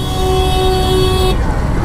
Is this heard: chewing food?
no